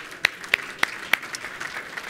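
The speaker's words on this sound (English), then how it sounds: "Give them a round of applause for being here." An audience at an Arizona Office of Tourism event gives a thin round of applause, four sharp distinct claps at a steady pace, then softer scattered clapping trailing off.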